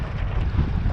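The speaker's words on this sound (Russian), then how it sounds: "дождь, ветер" Wind and rain batter the microphone outdoors on a cold, wet northern summer fishing trip, a close continuous low rumbling buffet with no break for the whole second.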